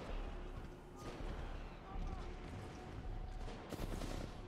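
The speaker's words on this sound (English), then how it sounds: "I know I'm getting shot at from like a distance here." Distant gunfire in Titanfall 2, bursts of muffled shots rattling faintly in the background amid game noise, low in level throughout.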